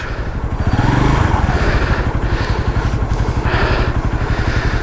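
A Falcon Freedom 250 motorcycle engine runs steadily in first gear with the rear wheel spinning, a close, loud, even mechanical chug with clattering rhythm throughout, no voices.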